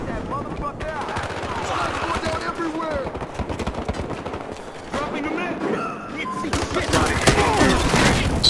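Gunfire in the video game Battlefield Hardline, with rapid bursts and single shots packed tightly over a loud, busy mix. People are talking at the same time.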